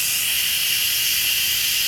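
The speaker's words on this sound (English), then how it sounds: "But again, Instapot, it's a pressure cooker." Steam vents from an Instant Pot pressure cooker in a steady, loud, broadband hiss that stays constant throughout, with no talk over it.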